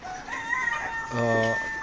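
Chickens call from inside a new poultry shed on a farm, several sharp clucks and a drawn-out crow-like squawk rising close by over a low background hum.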